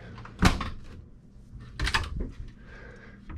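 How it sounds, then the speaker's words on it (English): Slide-out cabinet drawers in a 2005 Prevost XLII Royale motorhome being opened and shut, two distinct close thumps about a second and a half apart with a soft sliding rumble, no talking. "Cabinets. The slide-out drawers."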